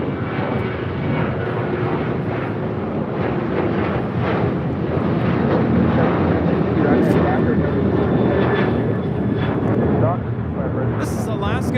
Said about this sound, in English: 1348 taking off to Puerto Vallarta on 737-900 ER.